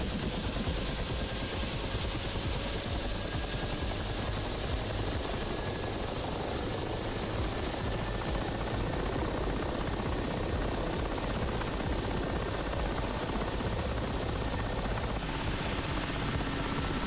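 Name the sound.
aircraft engine spooling up after throttle up, DCS World video game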